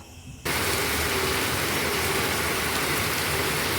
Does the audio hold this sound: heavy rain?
yes